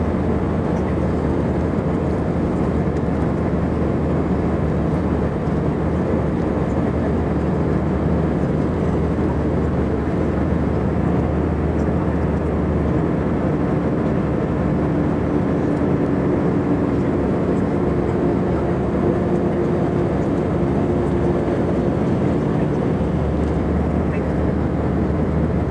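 Steady broadband airliner cabin roar as the plane climbs toward a cruising altitude of about 37,000 feet, a constant low rumble and hiss that stays even and loud throughout with no voices.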